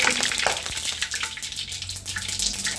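Panch phoron spices sizzling in hot mustard oil for a mango pickle, a steady close crackling hiss with small pops throughout, no talk.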